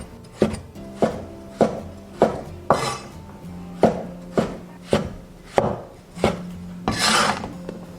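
A knife chops coconut flesh into small pieces on a board, about a dozen crisp, evenly spaced knocks, close and clear with no talking.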